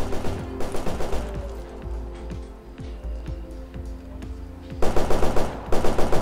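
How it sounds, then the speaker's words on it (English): Rapid automatic gunfire bursts in S.T.A.L.K.E.R. Anomaly, loud and close, with quieter scattered single shots in between and dense bursts returning at the end. "He's just shooting the wall."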